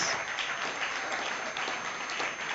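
Steady, dense applause from an audience at an evening poetry and music performance, continuous and fairly close throughout with no talking over it.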